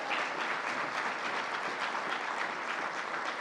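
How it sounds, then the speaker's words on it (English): An audience at a New York state funding event for SUNY Polytechnic Institute applauds, a dense, steady wash of clapping from many hands, sustained at even loudness throughout with no voices standing out. "Let's give her a round of applause."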